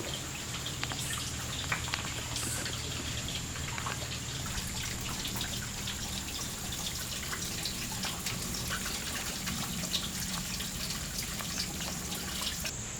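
Bailey's Pour Off, a small waterfall in a valley, sounds as a continuous soft rush of falling water with light dripping and splashing, steady and moderately distant.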